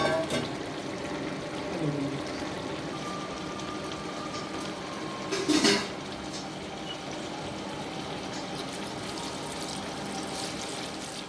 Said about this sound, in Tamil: இதில் மேலே 2 டம்ளர் பச்சை தண்ணியை விடணும்